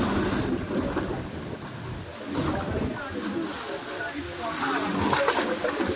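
Big ocean waves surge at a fishing spot, a loud, rolling wash of water and wind noise that swells and ebbs, with faint voices mixed in.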